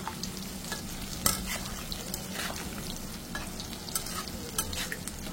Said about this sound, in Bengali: দেখো সোয়াবিনের পকোড়া হচ্ছে